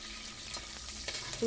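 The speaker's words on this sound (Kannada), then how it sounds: "ಕರ್ಬೇವಿನ ಸೊಪ್ಪು ಸ್ವಲ್ಪ ಫ್ರೈ ಆದಮೇಲೆ ಅದಕ್ಕೇ ಈರುಳ್ಳಿ ಹಾಕ್ಕೊಳ್ಳಿ" Curry leaves and onion frying in hot oil for palak rice, a steady low sizzle with soft stirring bursts, close and fairly quiet, ending in a louder push.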